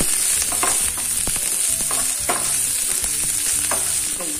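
Onion and green chillies frying in a pan, a steady loud sizzle with repeated scraping stirs of a spatula, no voices.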